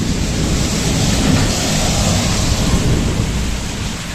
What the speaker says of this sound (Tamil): மின்னலும் இடியும் பாருங்க அதிகமாக இருக்குது மழை லைட்டா தாங்க பெய்யுது இடி மின்னல் தான் அதிகம்